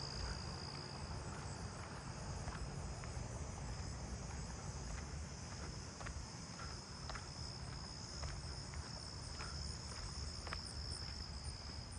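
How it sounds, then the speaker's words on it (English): Dense chorus of southeastern field crickets trilling steadily in a neighbourhood at night, continuous insect calls layered with a faint high whine, no voices. "Lots of southeastern field crickets in here."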